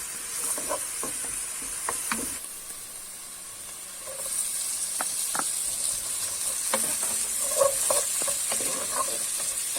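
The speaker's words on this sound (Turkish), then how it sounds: "iyice soğanımızı kavuruyoruz." Onions sauté in a pan for a Turkish rice and zucchini dish, a constant frying hiss with scattered spoon taps and scrapes as they are stirred, close and clear, no voices.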